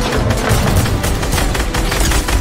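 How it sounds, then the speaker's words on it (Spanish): Gunfire in the video game Fortnite, a dense and loud continuous burst of rapid shots with no break in it. "¿Quién dispara aquí que te reviento?"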